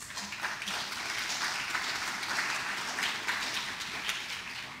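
Steady applause from a large conference crowd, dense clapping sustained evenly throughout with no pauses or voices standing out.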